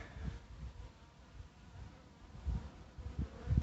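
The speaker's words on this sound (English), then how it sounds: "Try not to squish any bees" Honeybees swarm around hive frames being handled, a close, wavering buzz that rises and falls in bursts with no talking.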